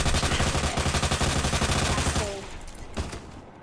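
Rapid gunfire in the video game Resident Evil 2 Remake, a dense, loud burst of repeated shots for about two seconds that cuts off, followed by a single fainter shot and quiet game ambience.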